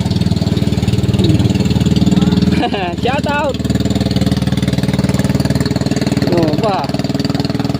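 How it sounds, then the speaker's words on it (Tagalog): Boat engine running on a river against a strong current, a loud steady droning rumble throughout with voices briefly speaking over it. "lakas ng makina, oh"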